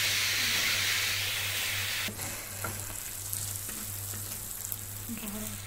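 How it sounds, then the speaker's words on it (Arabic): Onion frying in oil in a pan for a tagine, heard as a loud, continuous sizzle and hiss at first that drops to a softer crackle with scattered pops after a couple of seconds. "يعني انت بتقلي البصله بس يا ماما؟"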